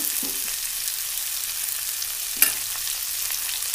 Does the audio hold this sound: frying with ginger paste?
yes